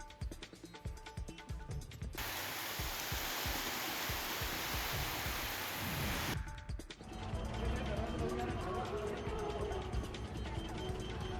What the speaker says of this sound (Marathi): सावंतवाडी तालुक्यातील बांदा शहर आणि परिसराला चक्रीवादळासह मुसळधार पावसानं झोडपून काढलं